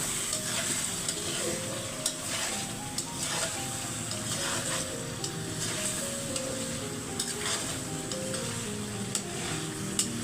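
Hilsa fish that was salted and set aside is being sautéed with spices in a pan, giving a steady close sizzle with frequent scraping stirs and light clinks of a utensil against the pan throughout, with no talking.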